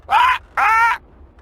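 A cartoon bird in the adventure game Deponia squawks twice in quick succession, two loud, harsh, raspy calls with a short gap between them and nothing else around.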